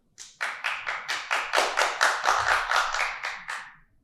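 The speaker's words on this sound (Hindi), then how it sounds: "आपके साहबजादे बैठे हुए हैं और इतनी जोरदार ताली पीट रहे हैं" Loud, steady hand clapping from one person, about a dozen sharp claps in an even rhythm, close and alone with no talk over it.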